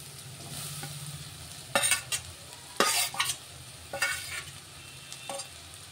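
Grated potato frying in a pan, a soft steady sizzle broken by several loud scraping stirs as a spoon moves through the shreds, with no talking.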